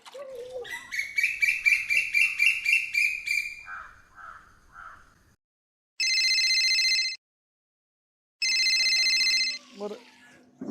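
A phone ringtone plays a chirpy, warbling melody, then rings in two loud, electronic bursts separated by a short pause, with a brief voice near the end.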